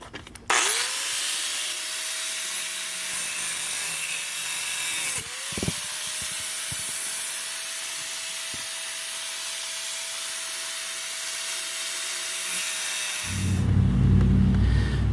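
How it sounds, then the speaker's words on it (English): A cutting tool slices around the outer casing of a Plymouth Duster bumper shock, giving a loud, continuous high whine that dips once midway and keeps going steadily before a lower, rougher burst near the end. "I'm just going to make a circle around here and cut through this outer casing."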